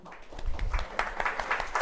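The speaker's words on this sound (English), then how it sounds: "Let's have a round of applause for hope." Audience applause at a live political talk event, a steady patter of clapping from a crowd, moderately faint and continuous with no voices over it.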